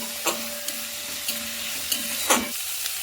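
Carrots being stir-fried in a pan for a vegetable soup, with a steady sizzle under several sharp stirring scrapes of a spatula against the pan.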